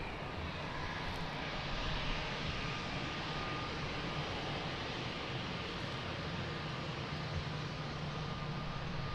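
A Boeing 777 airliner roars at Lisbon Airport, its engines producing a steady, broad, distant rumble that holds constant throughout with no voices.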